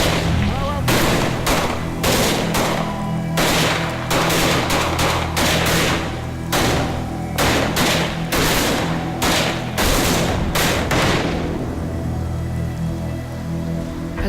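Gunfire near a burning oil camp, heard as a loud, steady run of rapid shots and crackling bursts over a constant background roar, thinning out toward the end.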